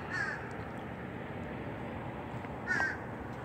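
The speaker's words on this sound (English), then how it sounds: "Look at the birds. They are just waking up and waking me up." Two harsh caws from birds at sunrise call out from a distance at Eau Gallie Pier, one at the start and another near the end, faint over a steady outdoor hiss.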